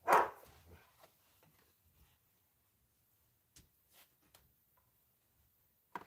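A dog gives a single close bark at the start, followed by faint scattered ticks and small knocks in a quiet indoor room.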